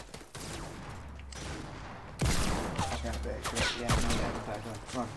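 Gunfire in the video game Fortnite, sharp shots and bursts of game combat sounds overlapping with excited voices of players talking over them.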